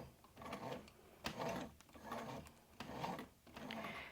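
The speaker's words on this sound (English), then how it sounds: "I'm going to hand crank so I can get close to the corner" A hand-cranked sewing machine stitches through webbing near a corner, giving four slow, separate bursts of clattering mechanical stitching with short pauses between them, close and moderately loud.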